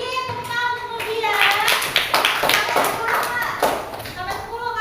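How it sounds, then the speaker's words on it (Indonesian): Classmates clap hands together in a school classroom, a lively burst of fast clapping mixed with children's chatter and voices throughout. "tepuk tangan untuk Nurdia."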